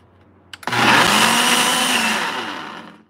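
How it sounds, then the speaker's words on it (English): An electric blender whirs into action blending a protein shake at home, starting with a couple of clicks before a loud, steady motor roar that holds for over two seconds, close up and with no talking over it. "let me turn the blender. Let us get the protein shake blend up right now."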